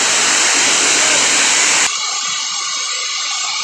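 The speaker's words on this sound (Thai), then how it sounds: "น้ำตกขุนกรนะครับ" Khun Korn waterfall in a Chiang Rai forest in Thailand, a single 70-metre drop, gives a loud, steady broadband roar that thins abruptly to a quieter, narrower hiss partway through.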